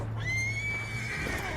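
A horse in the video game World of Warcraft gives a loud, drawn-out neigh over steady game background sound, with a faint hint of hooves and no one talking.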